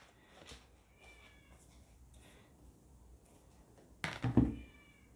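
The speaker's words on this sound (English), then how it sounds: "My little kitty meowing out there." A cat meowing outdoors, faint distant cries repeating a few times, followed near the end by a louder, closer thump-like burst.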